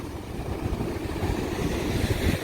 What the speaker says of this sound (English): Nice bit of white water about.